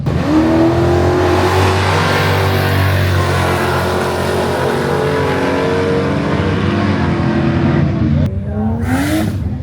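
A Ford Falcon G6E turbo race car accelerates hard, its loud, close engine note climbing steadily in pitch for several seconds before the throttle lifts briefly and the revving rises again.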